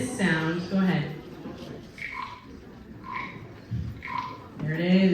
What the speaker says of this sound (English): sound of a frog croaking from the help of a special instrument called the Frog Bureau